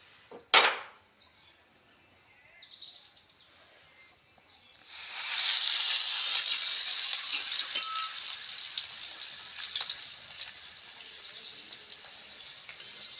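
Soaked papad dropped into hot oil sets off a loud, steady frying sizzle with bright crackling hiss, after a few quiet clinks and scrapes at the start.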